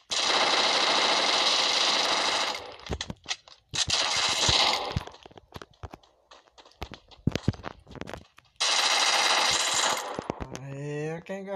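Rapid bursts of automatic gunfire from a video game, loud and sustained, broken by pauses with scattered shots and clicks.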